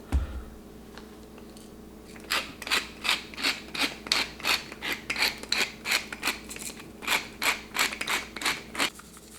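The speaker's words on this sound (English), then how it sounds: "on both sides of the brisket, we're going to put a good portion of salt and pepper" Salt and pepper are rubbed into a brisket, a run of soft rhythmic scratchy rubbing strokes, close and moderate, about two per second after a brief quiet start.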